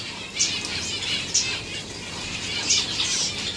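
Soft, rapid wing flutters come in several short bursts, a partridge chick flapping close by with faint rustling between the beats.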